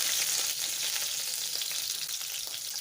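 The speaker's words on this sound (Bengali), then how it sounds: "পেঁয়াজ দিয়ে দিলাম আধা কাপের মতো। এখন ভেজে নেব।" About half a cup of cut onions fry in a pan with bay leaves, cinnamon and cardamom for beef liver bhuna, giving a continuous close hiss and sizzle with faint stirring.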